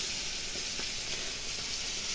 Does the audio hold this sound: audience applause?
no